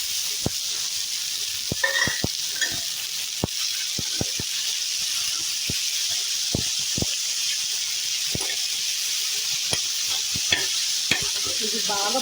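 Potatoes with asafoetida fry in hot oil, a steady bright sizzle punctuated by frequent sharp scrapes and clicks of a spoon stirring in the pan, close and without talking.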